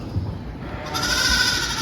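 Four-month-old Merino ewe lambs bleating on a farm, a couple of close, loud calls, the second bleat rising sharply and holding, with no talking.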